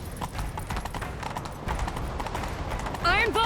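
Horse hooves gallop in a rapid clip-clop rhythm in a chase scene from The Witcher 3: Wild Hunt, loud and continuous under voices, with a whinny-like call rising near the end.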